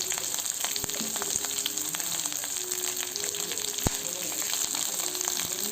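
Mustard seeds, chana dal and onions frying in oil for a raw banana fry: a dense, continuous sizzle and crackle close by, broken by a few sharp pops and utensil taps, with no speech.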